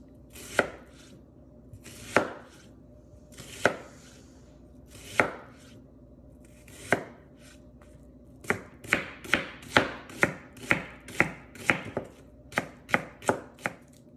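Knife chopping vegetables on a board while making chicken cabbage soup: sharp, close cuts, spaced a second or more apart at first, then a quicker run of regular chops near the end, with no talk.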